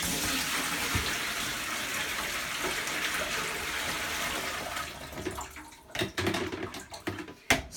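Water from a bucket of medical leeches is poured steadily into a strainer, a continuous close splashing rush that breaks into uneven spills and drips toward the end.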